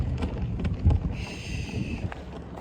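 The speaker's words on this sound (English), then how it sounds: "Oh, it's really windy." Wind blows steadily, producing low rumbling buffets against the microphone with a faint whistling tone in the middle.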